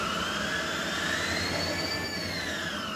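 An electric motor in a hybrid transmission, run on an OpenInverter FOC controller and lubricated with oil, spins up forwards with a steady whine whose high tones glide upward and then settle, faint and continuous with no talk.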